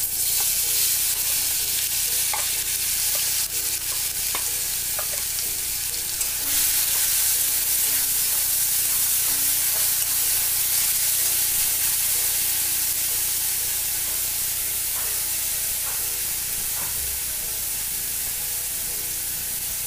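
Cumin seeds sizzle in hot oil in a home kitchen pan, a loud, close, continuous frying hiss broken by the scrape and clatter of a spoon stirring them through.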